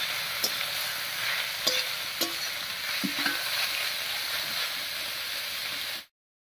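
Young ash gourd pieces frying slowly in a pan with turmeric and salt, giving a steady close sizzle broken by a few sharp scrape-and-stir clatters before the sound cuts off abruptly.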